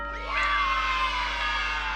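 Children cheer at 6 AM in the Five Nights at Freddy's video game, a loud synthetic burst of crowd shouting and whooping that holds steady for about two seconds over a low hum.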